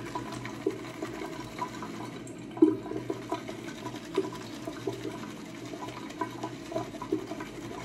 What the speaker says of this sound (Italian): con un filo d'acqua che scorre